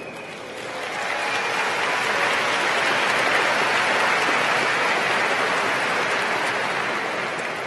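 A large commencement crowd at the University of Minnesota breaks into applause that swells after the first second into a loud, rain-like roar of many hands, sustained to the end.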